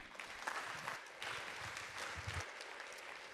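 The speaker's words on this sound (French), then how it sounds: "Je pense que vous pouvez tous les applaudir quand même." A conference audience applauds after a talk, a fairly quiet, sustained patter of clapping from a seated crowd in a hall.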